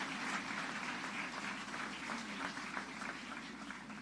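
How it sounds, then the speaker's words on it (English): Applause for state legislators at a governor's news conference comes as a steady, fairly faint wash of many hands clapping. It holds at an even level throughout without speech. "Give them a round of applause because they deserve it."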